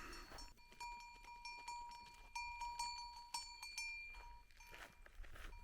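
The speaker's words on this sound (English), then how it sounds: "the sheep decided to escape again" Escaped sheep on a Portuguese mountain farm, with bells ringing in a repeated clanking rhythm close by and faint bleating or movement beneath.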